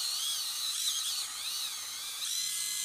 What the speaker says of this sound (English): Sounds like a dentist drill, doesn't it?